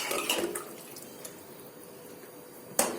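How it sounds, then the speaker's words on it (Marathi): Water pours briefly into a pot for cooking dal with ridge gourd, a splashing gush that quiets to a faint trickle, ending with a sharp clink. "पाणी मी त्यानुसार टाकते"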